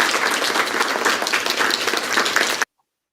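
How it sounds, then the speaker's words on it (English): Round of applause welcoming an honored couple as guests to a start-up opportunity webinar, dense steady clapping for about two and a half seconds before cutting off abruptly to silence. "can we have a big round of applause for"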